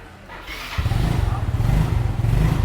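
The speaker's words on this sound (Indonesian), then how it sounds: "langsung saja aku cek soundin ya untuk suara mesin motor Mio Mirza ini ya" A yellow Kawasaki Ninja 250 motorcycle engine starts up after a brief quiet moment, catching quickly and settling into a loud, close, steady idle rumble.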